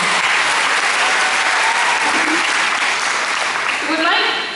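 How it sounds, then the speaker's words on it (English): Sustained audience applause at a local beauty pageant, dense clapping from a large crowd, loud and steady for several seconds with a faint voice near the end. "So let's give everybody a round of applause for those amazing costumes."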